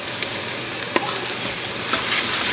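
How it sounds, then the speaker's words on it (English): Carrots and mushrooms are stir-fried in a pan while cooking Japanese nikujaga, producing a loud, steady sizzle close up with a few sharp scrapes and clicks of stirring. "Give that a good stir. Fry that up for a little while by itself."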